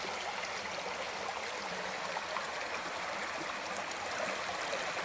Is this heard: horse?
no